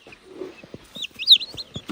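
Chirpy high-pitched calls of older chicks come in short bursts, with soft scuffles and taps around them, fairly close and moderately loud.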